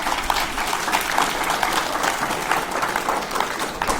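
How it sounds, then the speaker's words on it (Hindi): Steady applause from a school audience at a Teacher's Day celebration, dense clapping filling the room for several seconds without a break. "अगर सबसे पहले तालियां बजनी चाहिए तो बजनी चाहिए उस्ताद के लिए"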